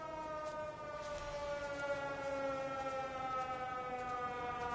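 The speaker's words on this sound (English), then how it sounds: "That's what your tornado siren sounds like." A tornado siren in the game Everybody's Gone to the Rapture, a steady harmonic wail that sags slightly in pitch, faint and distant, heard alone without voices.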